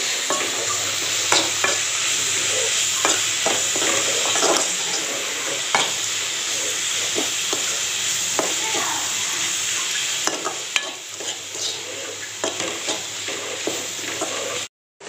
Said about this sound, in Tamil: தேவையான இஞ்சி பூண்டு பேஸ்ட்டு சேர்த்துக்கலாம் நல்லா பச்சை வாடை போகிற மாதிரி நல்லா கிண்டிக்கலாம்